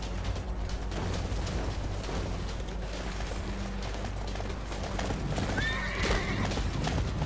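Horse in Attack on Titan: Wings of Freedom gallops with continuous clip-clop hoofbeats under loud game noise, then lets out a clear whinny near the end.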